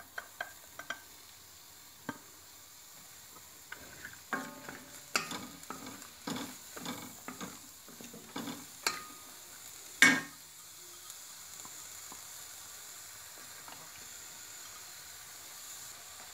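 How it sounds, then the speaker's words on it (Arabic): Onion frying in a little oil in a pan, with scattered stirring clicks and scrapes and a few louder utensil knocks over a soft, steady sizzle, no talking. "ناخذ مقيله، كب شويه ديال الزيت،"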